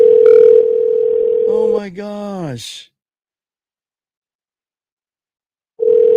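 A telephone dial tone during a callback attempt hums steadily and loudly, then stops under a short spoken exclamation before a pause of silence. The tone resumes at the end.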